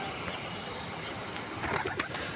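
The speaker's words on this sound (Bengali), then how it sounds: "এই যে দেখুন এগুলো হচ্ছে পালুয়ার বাসার কবুতর" High-flying domestic pigeons being let out of their coop, with soft cooing and wing flutters against an outdoor background that includes light traffic, and no one talking.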